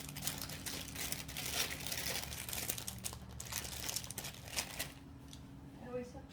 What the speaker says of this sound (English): Trouble opening these bags, so it's just easier with a pair of scissors.